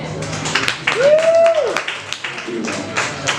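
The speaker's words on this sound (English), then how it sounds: "give a huge round of applause for the very funny Kevin Robertson" Audience at a comedy show applauding a comedian, steady scattered clapping throughout with a voice rising briefly over it in the middle.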